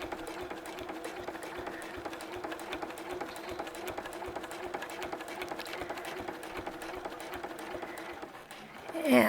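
A sewing machine runs steadily through free motion stitching of clamshell quilting shapes, its needle chattering in a fast continuous rhythm at close range, with a brief louder bump right at the end.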